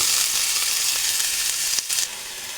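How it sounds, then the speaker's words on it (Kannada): Chopped onion dropped into frying green chillies for paneer fried rice, a steady close sizzle hissing throughout that briefly dips and shifts near the end, no voices. "ಇವಾಗ ಚಾಪ್ ಮಾಡಿದ ಆನಿಯನ್ ಹಾಕಿ"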